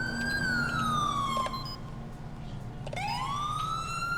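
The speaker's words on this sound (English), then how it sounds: "Not sure why the sirens turned on stage 2 on this car" A police car siren from GTA 5 with the LSPDFR addon wails loud and close, with a long tone that sweeps down, cuts out briefly and then sweeps back up over a low engine hum.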